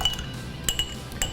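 A spoon stirs a cocktail in a glass, giving a few light, bright clinks against the sides at uneven intervals, close and fairly soft.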